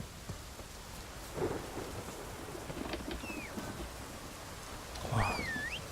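Thunderstorm in The Witcher 3: steady rain hiss with low thunder rumbles around 1.5 and 5.2 seconds, plus faint bird-like whistles and chirps over the downpour, no talking.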